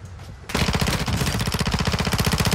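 Rapid automatic gunfire in a competitive shooter game rattles off in a steady, close, loud burst of evenly spaced shots that starts abruptly after a brief quiet moment and keeps going, no voices over it.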